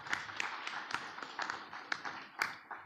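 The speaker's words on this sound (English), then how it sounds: "I think that calls for an applause." Sparse, scattered clapping at a healthcare and medtech workshop, a handful of distinct claps spaced irregularly and fairly quiet.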